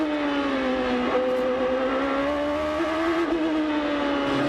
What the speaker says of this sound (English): Hear that wheel spin when that turbo lights.